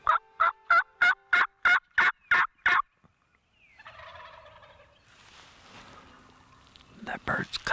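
A wild spring turkey in Kansas gobbles back at a hunter's yelping call: a rapid series of eight sharp, loud gobble-like bursts up close, followed by rustling and a faint voice, then more gobbling near the end.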